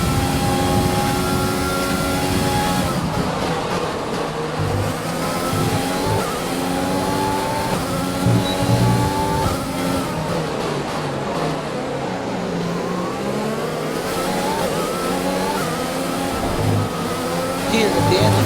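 Formula 1 cars from the F1 2020 video game race through the final turns at Australia, engines roaring and shifting pitch steadily throughout, mixed with commentary talk over the top.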